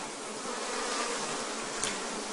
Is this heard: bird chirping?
no